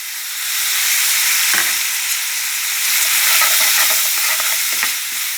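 Holy basil and sun-dried pork stir-frying in a hot pan, a steady loud sizzle with scraping stir strokes and short bursts, no talking.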